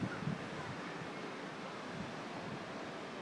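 Sea waves on a white-sand beach at Sandestin wash in a steady, soft broadband rush, faint and continuous, with some wind noise on the microphone.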